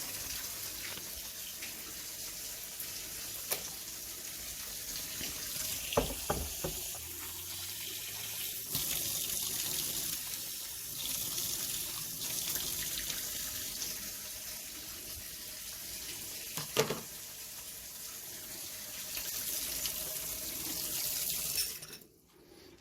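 Tap water runs steadily into a sink in a home kitchen during vegetable and rice cooking, a continuous hissing splash, moderately faint, with a few clatters of dishes and no talking.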